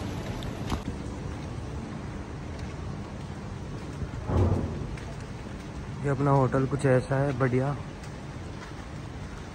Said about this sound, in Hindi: बारिश हो रही है अच्छी वाली